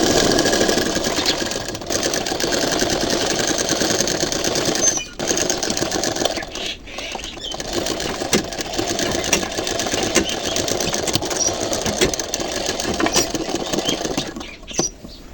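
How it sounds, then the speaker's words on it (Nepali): A sewing machine stitching the side seam of a palazzo (plazo) trouser, running in a steady close mechanical whir with short pauses and restarts. "अब म सिलाउन गइरहेको छु।"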